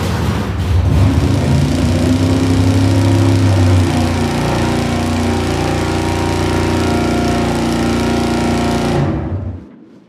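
A V8 engine runs steadily on a dyno as its coolant heats up, a loud continuous drone with a throaty low rumble that holds for about nine seconds before it is cut off and dies away.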